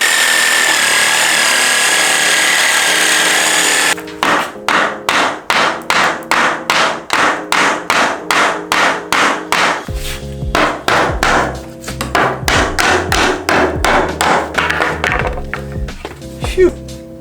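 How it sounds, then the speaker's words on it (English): Wooden boards being knocked off pallets. A steady hum gives way to rapid, regular wooden hammer blows that keep going in quick succession, loud and close. "Let's get this board off these pallets."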